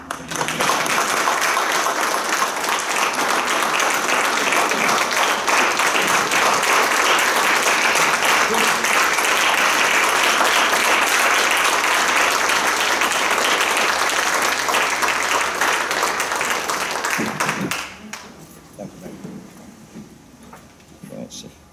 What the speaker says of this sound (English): y'all come over here, and y'all can clap